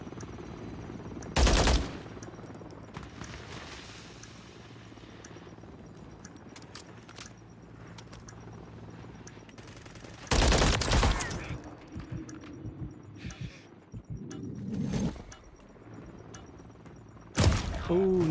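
Machine gun fire in an online first-person shooter match, in three loud full-band bursts spaced several seconds apart, with quieter game sounds and faint background noise between them.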